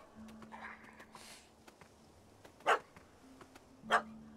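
A puppy in The Witcher 3: Hearts of Stone lets out two sharp, separate barks about a second apart, fairly close against a quiet game backdrop with faint ambient sounds.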